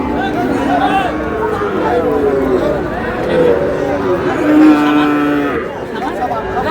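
Sahiwal calves at a livestock market in Munshiganj, Bangladesh, moo repeatedly amid a busy crowd, with people talking and haggling nearby throughout.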